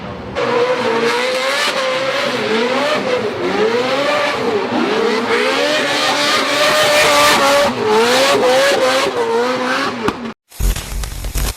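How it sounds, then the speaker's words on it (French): A loud, roaring supercharged V8 NASCAR engine revs and drones continuously at a drift event at Ferropolis, pitch rising and falling as it accelerates, then abruptly cuts out near the end. "Donc tout simplement qui est un V8 NASCAR compressé. Donc avec un bruit absolument magnifique."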